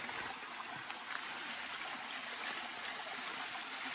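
Mountain spring water flowing out of a hillside in dense forest, a quiet continuous trickling rush with no voices.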